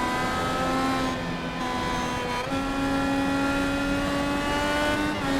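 Onboard race car engine with driver Travis Browder, heading into a bus stop chicane: a loud, steady engine drone with shifting pitch as the car brakes and accelerates, filling the whole stretch with no talk.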